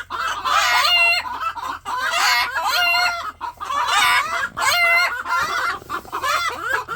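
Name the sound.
Ayam Cemani chickens clucking and crowing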